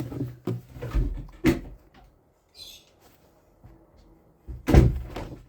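Several wooden knocks and thumps sound close by, like a door being handled and opened, with quiet rustling between and a heavier thud near the end.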